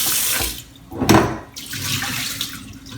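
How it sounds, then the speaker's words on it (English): Tap water runs and splashes into a Vitamix blender container for a rinse in a kitchen sink, a close steady gush with a brief louder surge partway through. "I'm going to do my final rinse here"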